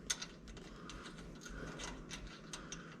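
Ratchet clicking as a safety jam nut is tightened over a washer onto a protruding 1/2-inch bolt against a roadster tow bar, soft rapid pawl ticks at close range, quiet and continuous without talk.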